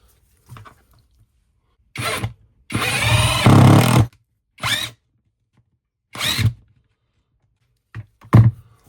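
A cordless impact driver fitted with a DeWalt bit driving a screw, heard in several short bursts of whirring and rattling hammering, one longer run of about a second and a half, with brief pauses and handling clicks between them.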